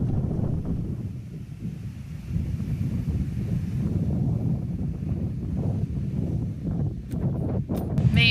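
Steady, blustery wind buffets the microphone at a beach on a cool, windy afternoon, a constant low rumble with gusts swelling throughout and no voices.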